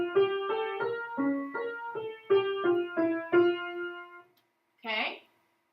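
A single voice sings the opening motive of a Bach invention, a short melodic phrase of about eight notes with a steady rhythm, followed after a pause by a brief breathy burst.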